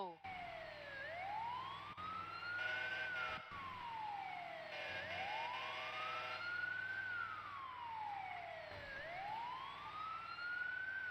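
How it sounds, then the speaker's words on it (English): An emergency vehicle siren in a roleplay driving video game wails in slow, repeated rising and falling sweeps, steady and fairly clear across several cycles, with faint background game noise. "I can also control your lights and sirens as well."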